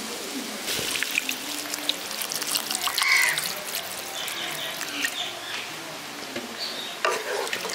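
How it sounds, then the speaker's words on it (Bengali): Water poured into soybean chunks cooking in spiced masala in a pan, a steady close splashing and gurgling with faint sizzle beneath, moderately loud and continuous throughout. "এবার এর মধ্যে আমি জল দিয়ে দিচ্ছি।"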